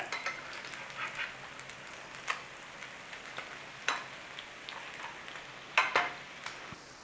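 Irish boxty potato pancakes frying in a pan with oil and butter, a soft steady sizzle broken by scattered crackles and spatters, close and fairly quiet.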